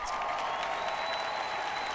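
Studio audience applauding at The Voice Dominicana singing battle, steady dense clapping that fills the whole stretch without a break.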